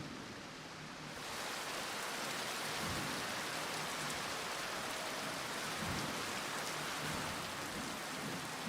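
Rain in Ishgard, a city in Final Fantasy XIV, starts after a quiet second and becomes a steady, even downpour hiss with no voices.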